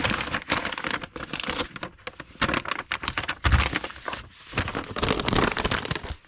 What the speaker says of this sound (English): We will put these in a tie-back envelope